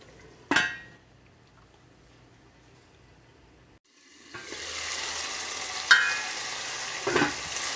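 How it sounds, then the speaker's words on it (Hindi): Bottle gourd (lauki) stir-fried in a pan starts with a sharp clank and quiet stretch, then rises into a steady sizzle with occasional scrapes and clinks of the spoon against the pan. "इसको हम थोड़ा सा और स्टर फ्राई कर दें"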